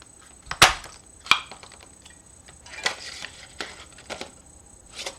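A handheld craft punch snapping through paper to cut bee wing shapes, sounding as a few sharp, separate clacks with lighter clicks and handling noise between them.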